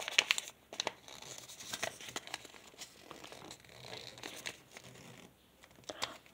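Paper crinkles and rustles softly while being unfolded and pressed flat to fold an origami tyrannosaurus, with close, irregular crisp crackles and scrapes and no voices.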